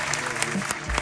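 An audience breaks into applause during a rap roundtable after a freestyle, a short burst of scattered clapping with a faint voice underneath.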